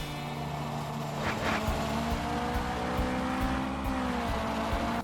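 Racing car engines in the Android game Drive World, a steady, close engine drone with shifting pitch and brief tire squeal partway through.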